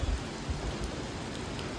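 Dense, steady rain hisses continuously with a low rumbling undertone, loud and close, with no voices.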